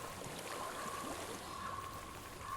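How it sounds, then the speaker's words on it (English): A flowing stream of water in the video game Hellblade: Senua's Sacrifice, a steady, quiet rushing wash that continues unbroken throughout, heard alone with a faint sustained tone above it. "I hear water."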